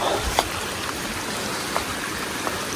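Water spills and flows over a footpath outdoors, a constant close rushing babble with a few small splashy ticks scattered through it.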